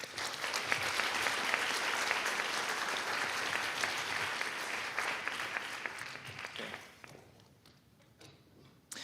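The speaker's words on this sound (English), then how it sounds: "round of applause for those students" Sustained applause from a concert audience for orchestra students at a Batesville Orchestras pop hits concert, steady and full for several seconds before thinning into scattered claps near the end.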